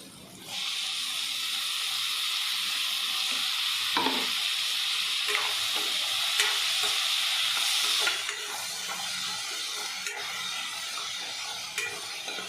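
Tomatoes frying in a pan for pav bhaji, a steady close sizzle and hiss with a few stirring scrapes, easing slightly after the midpoint.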